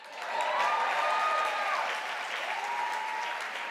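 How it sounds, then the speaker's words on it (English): Audience applause at a Hollywood gala honoring Black women, thick and steady clapping from a large crowd that swells loud early and holds, with a faint voice threading through. "Y'all better clap louder."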